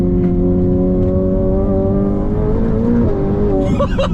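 A Ferrari F8 Tributo at full throttle gives a loud, continuous engine roar, close and unbroken, its pitch climbing steadily as it accelerates, with no talk over it.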